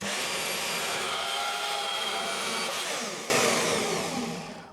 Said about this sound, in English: So we'll run that saw down through it and see how we go that one with this one.